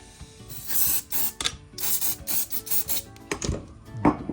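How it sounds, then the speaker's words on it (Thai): Rust remover sprayed onto a SIG Sauer P320 pistol in a series of short, close hissing aerosol bursts with brief pauses between them. "ส่วนนี้เราก็ฉีดสเปรย์ไว้รอเลย"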